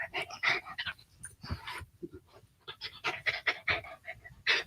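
A Havanese poodle mix dog pants rapidly and close by in quick rhythmic bursts, with a brief pause midway and a few small whimpering sounds between breaths.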